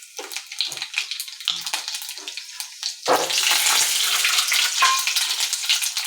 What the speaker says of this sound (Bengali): তেলটা ছিটে আসছে